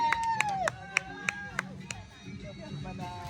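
Scattered claps ring out from a crowd at an outdoor picnic during a musical chairs prize-giving, several sharp claps near the start fading into background chatter, with a bright whistle-like tone at the opening.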